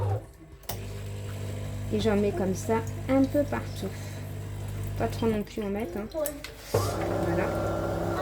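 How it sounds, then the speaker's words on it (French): Coffee maker running in a home kitchen, a steady low hum and faint bubbling beneath someone speaking French throughout, briefly cutting out near the end before resuming. "Désolée pour le bruit là. C'est la cafetière."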